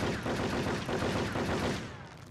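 Gunfire in the PC game Cold Winter: a loud, dense stretch of rapid automatic shots rattles continuously, then cuts off abruptly just before the end.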